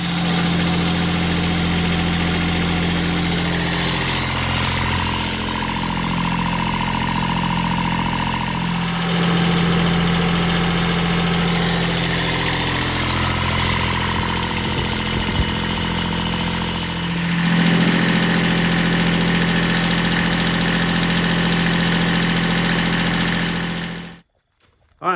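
A 1991 Kubota B7100 HST 4WD tractor engine idles steadily up close, a loud continuous vibrating drone that shifts slightly in pitch partway through before cutting off at the end.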